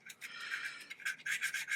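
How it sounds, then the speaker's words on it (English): Rolled-up sandpaper twisting and rubbing against the inside of the output jack hole on an Epiphone Les Paul Special II guitar, with close, gritty scraping strokes in quick repeated bursts. "Rolled up sandpaper in through, let it expand, and just do this, making sure you're touching the sides"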